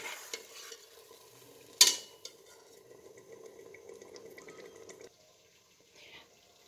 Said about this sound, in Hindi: 5 मिनट तक अब इसको भी भूनेंगे, जब तक ऑयल सेपरेट नहीं हो जाता।